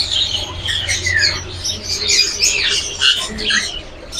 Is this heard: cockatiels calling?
yes